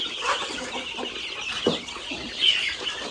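Chickens cluck and chirp softly in a noisy outdoor setting, with a few brief calls rising above a steady background hiss.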